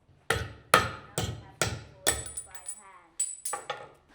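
A hammer strikes a cold-pressed aluminium weld about eight times in an uneven rhythm, each blow a sharp, close metallic clank with a short ring.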